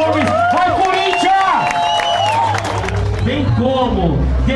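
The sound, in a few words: crowd applause for skater Rony Gomes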